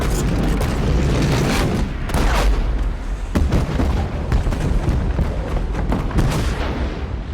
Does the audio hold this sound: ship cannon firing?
yes